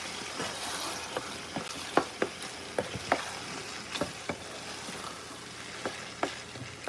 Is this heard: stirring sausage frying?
yes